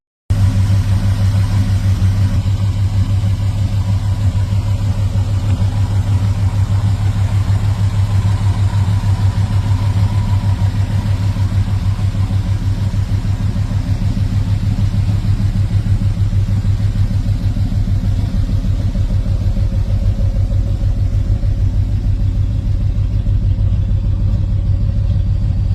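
A long bed Chevrolet C10 square body classic pickup idles with a steady, loud, low rumbling growl that holds even and unbroken throughout, with no voices.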